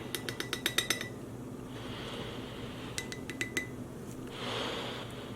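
Spoons clink and chink against containers while scooping dye powder for solar dyeing roving. One quick run of bright metallic taps comes first, then a second shorter cluster, with faint rustling between them.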